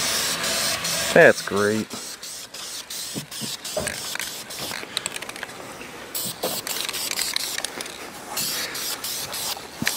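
Orange aerosol spray paint hisses onto an oil pan for a 1991 GMC Jimmy in bursts of close, steady spray. Brief pauses fall between the bursts, and a person talks and makes short vocal sounds over part of it.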